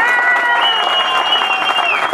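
A large political rally crowd applauds loudly for President Rafael Correa, dense clapping mixed with cheering and crowd noise, with a sustained high tone like a whistle or horn riding above it.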